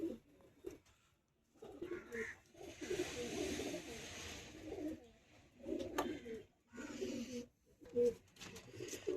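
A pair of Madrasi pigeons coo inside a cage, soft low throaty calls repeating in uneven bursts over a faint background hiss for several seconds.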